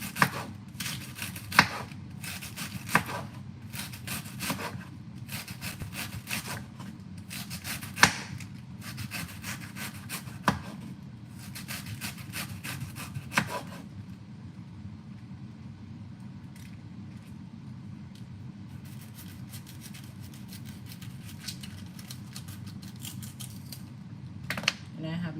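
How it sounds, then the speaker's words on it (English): Knife chopping cabbage on a board, a run of quick, loud, evenly spaced cuts, then a pause with quieter handling, and a fresh burst of chopping near the end. "I'm just going to cut up the cabbage in no particular"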